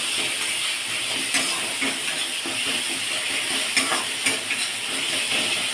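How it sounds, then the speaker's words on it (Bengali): Chicken and potatoes being stirred in spice paste in a hot pan, a constant close sizzle and hiss with soft scraping strokes of the spoon running throughout. "এর মধ্যে মাংস, আলু সবই একসাথে দিয়ে এর মধ্যে নাড়াচাড়া করে নেব"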